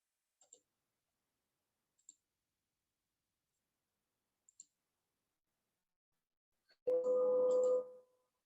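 A computer mouse clicks during an online computer class, with three faint, isolated clicks spaced a couple of seconds apart and long silence between them, followed by a loud sustained electronic tone near the end.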